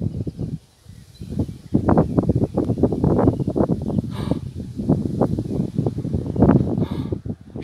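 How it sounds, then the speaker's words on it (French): Strong storm winds from a gust front over the Alps near Grenoble, reaching 75 to 100 km/h, sound as loud, irregular gusts that rumble and roar in rapid bursts, with a brief lull near the start. No one talks. "J'entends le vent là-bas au fond."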